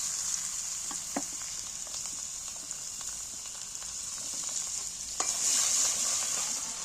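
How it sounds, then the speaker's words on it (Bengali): Finely chopped ginger and garlic fry in a wok with a low, steady sizzle and occasional light stirring taps, the hiss swelling louder near the end, close by and without speech. "প্রথমেই আমি আদা রসুনটা কড়ার মধ্যে তুলে দিচ্ছি"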